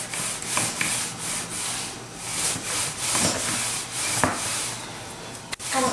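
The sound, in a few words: rolling out pastry dough with a rolling pin on a floured worktop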